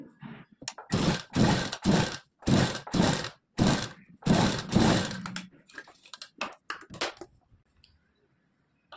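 An electric sewing machine stitches a blouse dart in several loud, close bursts of rapid whirring, separated by short pauses, then lighter clicks and handling as the run ends.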